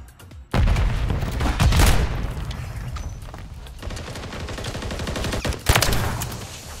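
Pistol gunshots in a shooter video game crack out in a loud close burst, followed by sustained rapid fire and a second sharp blast near the end, with no talking.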